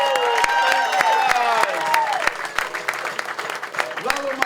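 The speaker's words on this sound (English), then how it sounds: "give them a nice round of applause right here" A crowd at a restaurant's final-night celebration gives a round of applause for the dishwashers, dense clapping with sharp individual claps alongside a voice speaking over it.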